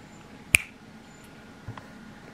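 A single sharp finger snap rings out close and crisp in a quiet room, followed about a second later by a much fainter click.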